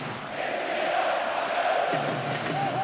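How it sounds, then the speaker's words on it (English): A stadium crowd in the football game PES 2009 roars and cheers during a South Korea vs Sweden match, a broad sustained swell of distant voices lasting a few seconds. "that's really got the crowd going"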